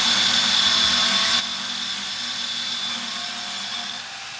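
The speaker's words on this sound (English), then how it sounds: "Paint stripping disc works super nice." A paint stripping disc on a power tool whines steadily and loudly, then drops to a slightly lower, softer hum partway through as the load on the disc changes, during an E46 build.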